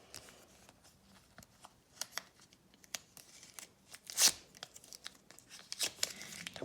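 Soft crinkling and rustling as a paper packet is torn open, with a few sharp tearing bursts, the loudest rip near the middle, close and otherwise quiet.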